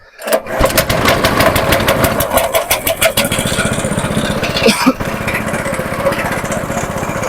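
A small engine on a Ukrainian grain conveyor starts up and runs loud and close, revving under throttle with a steady pulsing rhythm. It briefly dips near the end, then settles back to a continuous hum.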